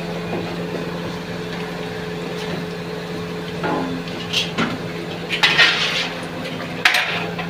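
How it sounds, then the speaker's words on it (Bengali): Pantua sweets are stirred in sugar syrup in a pan, giving a low continuous bubbling hum, then a few soft scrapes and splashy clinks of the spoon toward the end. "রসেতে ফেলা হচ্ছে পান্তুয়া। এইভাবে নাড়ানো হচ্ছে"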